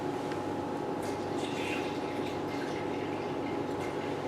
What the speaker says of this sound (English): now we add the pure water.